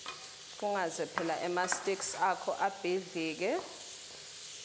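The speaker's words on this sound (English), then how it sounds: "And then just stir it up a bit." Food is stirred in a hot pan, scraping and sizzling faintly beneath a voice talking close by.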